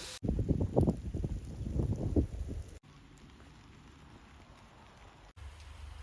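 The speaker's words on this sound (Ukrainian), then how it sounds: "Дощ під настрій Богдану." Steady rain patters on a surface nearby, a noisy hiss that drops to a quieter, even wash partway through.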